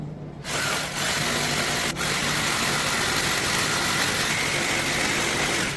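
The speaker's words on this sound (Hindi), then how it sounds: "अब करने वाले हैं हम इसमें ड्रिलिंग।" A power drill bores into a wall to mount the stand for a Godrej 1.5 ton inverter split AC, a loud continuous whine that starts after a brief pause and runs without a break.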